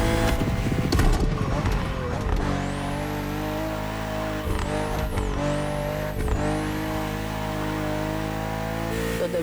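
A BMW M CSL accelerates in The Crew Motorfest racing game, its engine climbing through several upshifts with sharp pitch dips between gears. A voice narrates over the loud, continuous engine sound.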